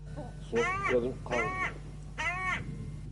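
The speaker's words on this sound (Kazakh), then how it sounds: "сосын кәдімгі қарғаның дауысы қарқылдайды" Three harsh, drawn-out crow caws, evenly spaced, fairly close, over a low steady background hum.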